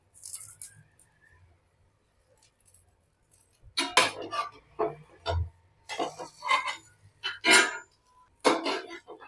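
Metal spatula scraping and tapping on a hot pan as a cheese dosa is folded, a series of short sharp clinks and scrapes after a quiet start.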